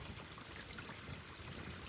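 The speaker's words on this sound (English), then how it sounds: "in this little creek right here, and it's gorgeous" A small creek runs over slate rocks, a soft continuous trickle and babble of shallow water, steady and quiet, with no voices.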